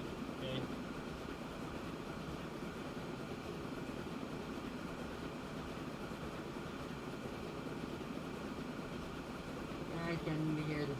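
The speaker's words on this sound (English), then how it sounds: "I can hear the sound of the train also now" A train in the Transport Fever 2 game rumbles steadily for the whole stretch with a low rolling drone, swelling slightly near the end.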